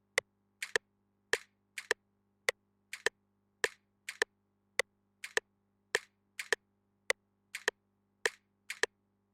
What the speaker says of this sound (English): Let me put the metronome so it can sound better.